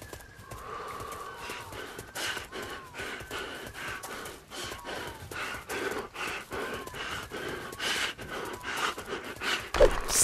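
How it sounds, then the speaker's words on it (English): Heavy, rapid panting and gasping breaths from a Tarzan VR video game, repeated steadily at moderate volume with faint background ambience and no speech. "Stop breathing."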